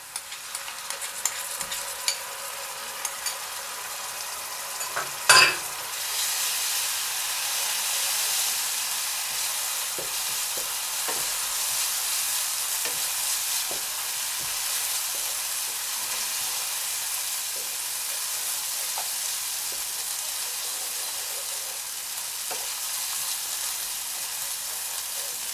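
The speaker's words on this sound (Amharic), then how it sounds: "ከዛ ነጭ ሽንኩርታችንን እናደርጋለን።" Garlic sizzling in a pan with fried onions and berbere, a steady, close frying hiss that runs unbroken throughout, with a brief clank near the start.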